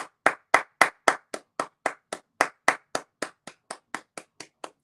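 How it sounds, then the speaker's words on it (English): Close, steady hand clapping rings out alone in an even rhythm, roughly twenty sharp claps in a row without a pause. "Round of applause."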